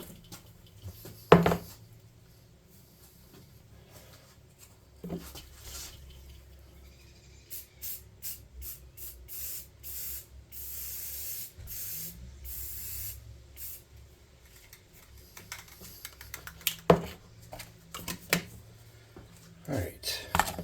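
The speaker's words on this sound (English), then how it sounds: "I'm going to spray paint this really quick." Short hissing bursts of spray paint from a can, repeated in a rapid series, with occasional knocks and handling noises around them.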